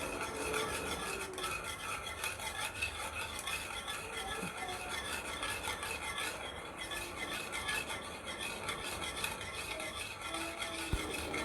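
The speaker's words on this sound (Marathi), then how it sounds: "आता एका हाताने आपण थोडा थोडा करत रवा टाकूया आणि असं मिक्स करत जाऊया" Semolina is stirred a little at a time into boiling water in a pot, a continuous scraping, rasping swirl with faint metallic rattles running steadily throughout, no talking.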